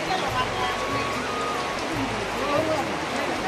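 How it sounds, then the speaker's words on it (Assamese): Rain falls outdoors as a steady hiss at a constant level for a few seconds, with a low murmur beneath it. "এইয়া বৰষুণ আহি আছে"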